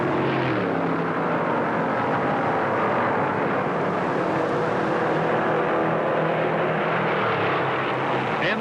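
A howling pack of 1960 Daytona 500 stock cars at full speed, a dense, steady engine roar that stays loud and unbroken throughout, with no voices.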